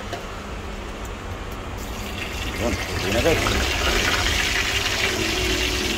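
Tap water poured into a cooking pot on an outdoor charcoal stove, a steady splashing gush that swells after a few seconds and holds near and fairly loud, with someone talking over it.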